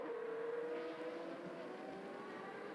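Formula V8 3.5 race cars at the Barcelona circuit, heard as a faint, distant, steady engine drone with a slowly shifting pitch and no distinct pass-by.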